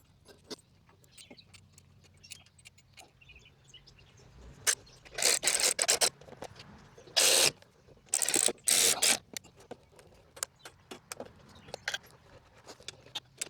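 Bolts tightened on a trailer jack with a ratchet: near, clicking metallic bursts come in quick runs amid scattered clinks and handling noises, with quiet gaps and no talking.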